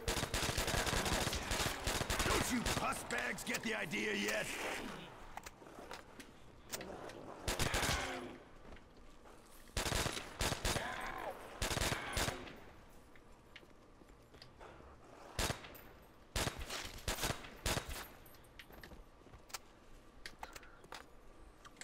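Sharp pistol gunshots crack out in bursts in the video game World at War, some rapid and some single, with a voice shouting briefly over the early shots; game-like combat noise fills the gaps.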